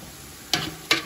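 Onions sauté in a pan for chicken biryani with a soft sizzle, broken by two sharp bursts of stirring or scraping a moment apart.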